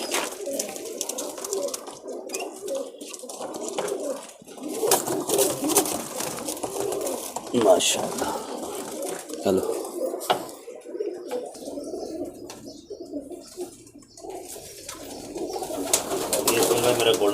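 Flying pigeons coo repeatedly in low, throaty murmurs, close and continuous, with people talking briefly over them, in Ras Al Khaimah, UAE.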